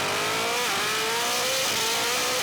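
A Bugatti Chiron Super Sport at full throttle in a drag race, its engine a loud sustained roar that climbs in pitch, dips briefly at gear changes and climbs again, with heavy wind and road noise and no talk.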